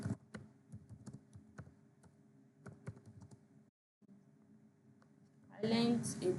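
Sparse keystrokes on a computer keyboard, clicking singly and in short bursts over a low background hum, with a pause and then a voice speaking at the end.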